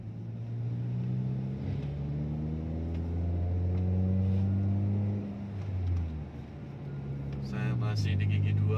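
A Hyundai i20's engine hums low and steady while climbing a steep hill in second gear, its pitch rising and falling gently with brief shifts.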